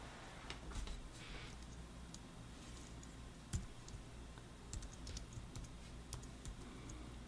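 Quiet typing on a computer keyboard, scattered soft key clicks in uneven short bursts with a few louder taps, faint and close against a low steady hum, no talking.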